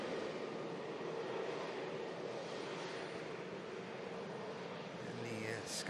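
A Swedish-registered Boeing 787 Dreamliner taxiing across at Manchester Airport in stormy weather, its engines a steady, even broadband roar held at moderate distance, with wind noise mixed in throughout.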